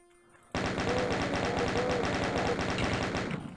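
A chaingun in the video game Doom 2 opens up suddenly and keeps firing in a fast, even rapid-fire stream of loud, close shots that goes on without a break.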